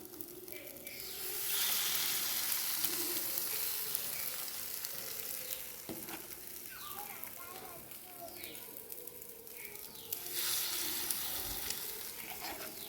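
Shawarma unniyappam frying on a low flame, a steady soft sizzle and crackle running throughout with a voice talking over it.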